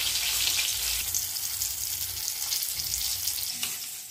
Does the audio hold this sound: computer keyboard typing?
no